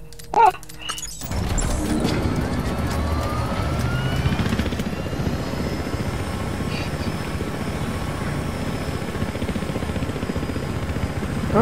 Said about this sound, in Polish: To ja helikopterem go ścigam.